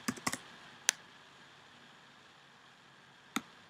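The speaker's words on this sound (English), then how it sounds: "you type in ad block" Keys on a computer keyboard are tapped in a few quiet, sparse clicks, a quick cluster at the start, one shortly after and a last one near the end, over faint room hiss.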